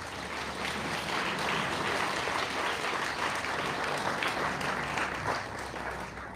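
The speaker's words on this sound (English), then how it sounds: "Let's give them a round of applause." Audience applause for award recipients at a Hawaii National Guard Youth Challenge Academy commencement in Kalaeloa, a steady wash of many hands clapping, moderately distant and even throughout.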